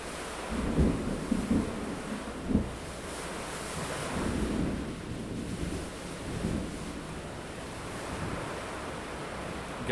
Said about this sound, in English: I don't know what's going on with this storm here